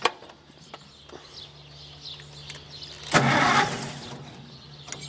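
An Oliver 770 tractor engine cranks and catches partway through, a brief low churning burst after some quiet clicks and hum, then a steady rumbling run close by that fades slightly toward the end.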